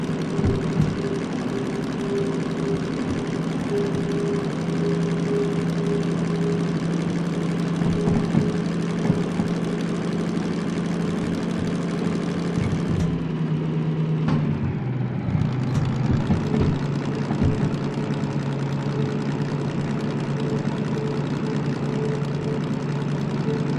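A diesel locomotive runs in Derail Valley pulling a 900-ton train. It gives a steady, droning engine hum with a low rumble throughout, and the tone shifts briefly partway through, with no talking.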